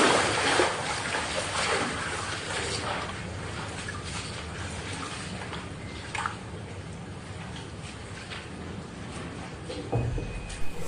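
Water is emptied out of a drum while a household water tank is cleaned, making a continuous loud sloshing, splashing pour with occasional sharper splashes throughout and no speech.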